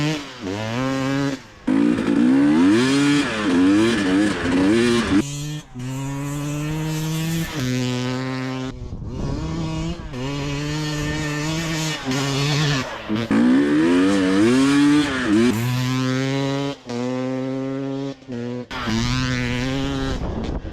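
A KTM EXC dirt bike fitted with a shorty exhaust pipe revs repeatedly, the engine note climbing and falling in sharp blips with brief pauses between bursts. It is loud and close, heard from the rider's seat.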